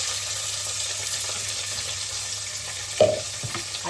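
Ginger, garlic and onion frying in hot oil with cumin and dried red chillies for palak paneer, a steady close sizzle with a brief stir or clatter near the end.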